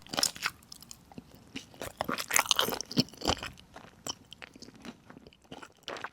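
Close, crunchy chewing of boneless lemon chicken feet served cold, with soft irregular bites and crackly mastication, quiet and intimate with no talking.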